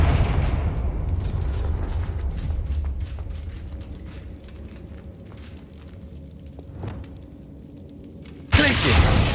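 Explosive Confringo spell from Hogwarts Legacy, a heavy booming blast that rumbles and decays with scattered crackles and debris, followed by a quieter lull and then a sudden loud burst near the end.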